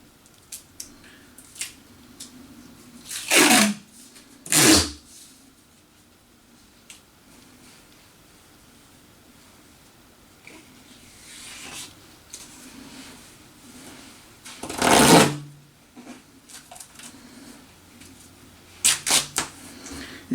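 Sticky packing tape pulled off the roll and wrapped around a rolled-up blanket for a homemade punching bag, heard as a few short, loud ripping screeches spaced apart, with faint handling noises between them and no talking.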